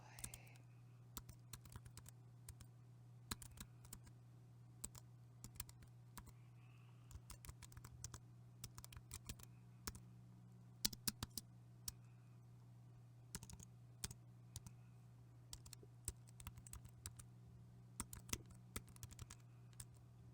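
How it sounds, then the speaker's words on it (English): Soft, quiet typing on a computer keyboard during an ASMR session, with irregular light clicks and keystrokes running steadily over about twenty seconds above a faint constant low hum. "the soft sounds of keyboards."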